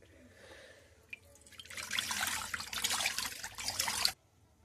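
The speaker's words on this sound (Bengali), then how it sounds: "কড়ায় জল দিয়ে দেব" Water is poured into a kadai set up for steaming puli pitha. A soft knock comes first, then a close, splashing stream runs for about two seconds before it stops abruptly into quiet.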